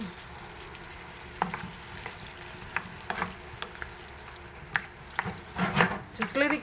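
Tomato sauce cooking in a pan for lasagna, a steady low sizzle and bubbling with scattered scrapes and taps, rising at the end with a busier burst of stirring and clatter.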